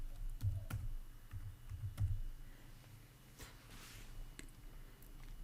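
Typing on a computer keyboard while entering a math answer in Google Docs, a few quick soft key clicks in short bursts, close and quiet, with pauses between.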